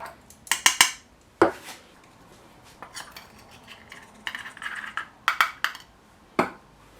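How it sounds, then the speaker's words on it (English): Spices and herbs being mixed together in a bowl for salt and pepper chicken wings, heard as scattered clinks and scrapes of a utensil against the bowl, some in quick bursts, fairly close and otherwise quiet. "That's the mixed herbs. Just going to mix these together."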